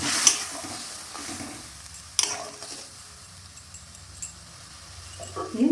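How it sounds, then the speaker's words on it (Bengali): A spatula stirs a spicy sea-fish mourola curry in a pan after warm water goes in, giving soft scrapes and a faint simmering sizzle, with a couple of sharper knocks against the pan. "উষ্ণ গরম জল দিলাম, দিয়ে নেড়ে দিলাম।"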